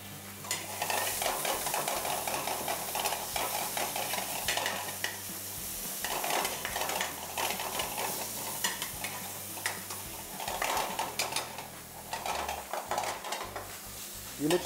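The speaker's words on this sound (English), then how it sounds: "Fry the onions. Then add some garlic paste" Onions fry with garlic paste in a pan while a utensil stirs and scrapes, a continuous close sizzle broken by irregular clinks and scraping against the pot.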